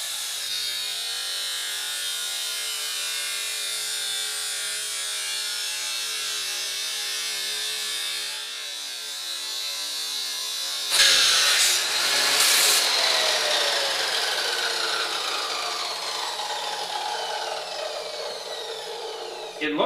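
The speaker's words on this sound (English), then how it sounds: "So I'm just gonna cut that little bit off of each side." Exhaust pipe being cut during custom V-band exhaust fabrication for a twin-turbo LS Nova gives a continuous close rasping, sawing sound that turns louder and harsher partway through, with a brief high squeal.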